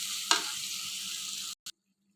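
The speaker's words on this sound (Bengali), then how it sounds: "এখন শুধু আলুগুলো ভুনে তাতে মাংস দিয়ে দেওয়ার পালা" Potatoes fry in hot oil in a pan for a Bengali beef-and-potato dish, a steady close sizzle with a brief louder burst near the start, then cutting out abruptly after about a second and a half.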